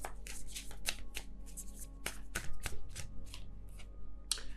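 Tarot cards shuffled and drawn from a deck, with crisp close riffles and sharp slaps of cards in an irregular rhythm and no talking.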